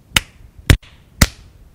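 Three sharp, isolated hand claps outdoors at night, evenly spaced about half a second apart, close and crisp against a quiet background.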